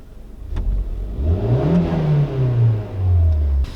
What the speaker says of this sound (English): So you want to give it a little bit rev.